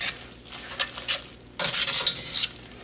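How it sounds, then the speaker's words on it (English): Pasta being stirred into a creamy egg sauce for carbonara: soft intermittent scrapes and utensil clinks, then a louder, denser burst of wet stirring in the second half, close by with no voices. "now we're gonna add into your pasta a little bit at a time and you stir. Stir like this"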